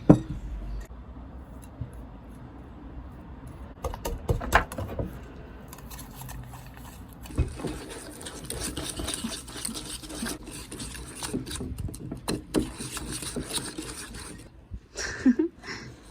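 A spoon scrapes and clinks around a mixing bowl as melted butter, sugar and salt are stirred for Margaret cookie dough, a faint, irregular rhythm of soft scraping and occasional taps.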